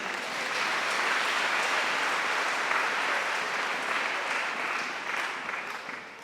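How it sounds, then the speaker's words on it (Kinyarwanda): Sustained applause from a gathered congregation at a gospel event, dense steady clapping that holds throughout and tapers slightly toward the end. "Imana ikomerwa amashyi menshi."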